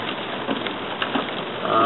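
Steady rain patters in a continuous, even hiss, close and moderately loud, with no other clear sounds standing out.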